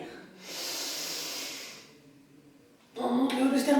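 A broad, breathy exhale during a standing warm-up exercise runs steadily for over a second, then fades, followed by a louder, rougher burst of breath or voiced sound near the end.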